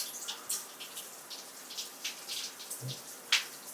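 Shower water running, a faint steady spatter and hiss of water with scattered drips and small splashes, quiet and close with no one talking.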